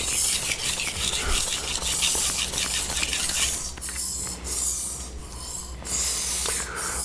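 Knife blade stroked across a whetstone, a steady close scraping rasp in repeated back-and-forth passes, fairly loud with brief pauses between strokes and no talking.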